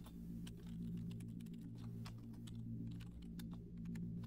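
Rapid keystrokes clatter on a computer keyboard, close and fairly quiet over a steady low hum, with an uneven rhythm of quick bursts and brief pauses.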